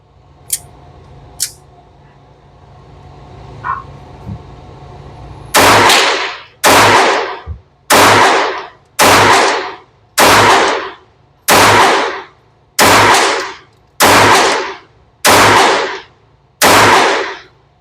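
Shots from a Taurus TX22 .22 pistol fired outdoors: a few sharp snaps early on, then after a pause a steady, evenly spaced string of about nine loud, close reports, each ringing out briefly before the next.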